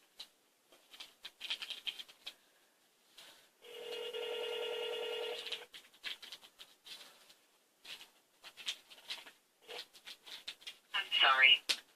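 An outgoing telephone call rings back with one steady, buzzy ring tone lasting about two seconds, quiet and close, set among scattered bursts of talk and small handling noises.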